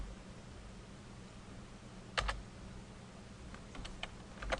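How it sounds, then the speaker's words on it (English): Keystrokes on a computer keyboard while entering a GPG command: a quiet scatter of clicks in a cluster near the middle and a few more toward the end, over a low steady hum with no talking. "So we type GPG"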